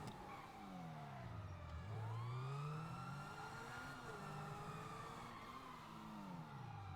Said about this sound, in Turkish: 3 ekip arabası var arkamızda.